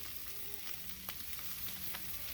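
Rice fries in oil on a Big Green Egg grill with a faint, steady sizzle and a few soft crackles and pops.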